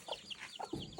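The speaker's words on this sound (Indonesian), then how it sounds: "Takut sama ayam peranakan itu" A chicken clucks in quick, short bursts, several soft clucks in a row, fairly close and moderately loud.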